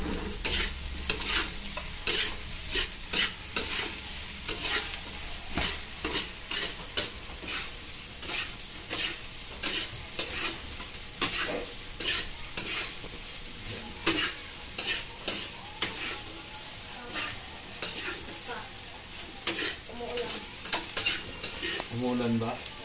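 Fried rice with fried chicken stir-fried in a pan, a steady sizzle of frying broken by repeated rhythmic scrapes and clanks of the spatula, loud and close, with no talk.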